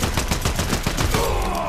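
Fortnite gunfire: a rapid, loud burst of automatic shots in an even rhythm, followed by a brief tonal game sound as the firing stops.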